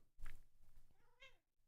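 A house cat meows twice nearby, a short sharp call and then a longer drawn-out mew, fairly quiet indoors.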